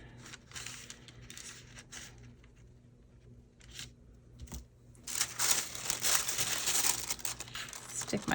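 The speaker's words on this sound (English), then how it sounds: "I'm gonna slip my piece of paper in." A sheet of paper slipped into the window of a junk mail envelope, with crinkling and rustling handling sounds, close and moderately loud, becoming busier and brighter toward the end.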